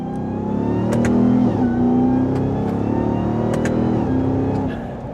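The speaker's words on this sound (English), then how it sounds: "The supercharger whine that Hellcat engines provide" A 2027 RAM 1500 TRX with a supercharged Hellcat V8 and 8-speed transmission accelerates hard, its loud, close engine roar rising through gear changes with a high supercharger whine layered over the rumble, no voices present.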